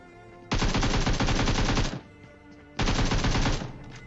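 Two loud bursts of rapid automatic gunfire from the video game PUBG Mobile, the first lasting about a second and a half and the second about a second, separated by a short pause.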